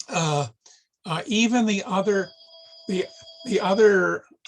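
A telephone rings with steady electronic tones during a talk, the ringing sounding between and under a man's speech.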